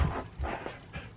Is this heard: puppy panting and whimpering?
yes